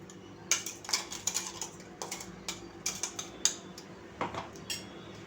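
A spoon scrapes and clinks against a bowl while a ground paste of ginger, garlic, green chilli and bhujia sev is scooped out, with light irregular metallic taps close by.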